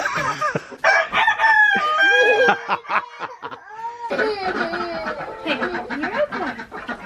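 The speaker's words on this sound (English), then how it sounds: "It's just a chicken." A chicken crows loudly and clucks up close in a series of drawn-out calls and choppy bursts, with no voices.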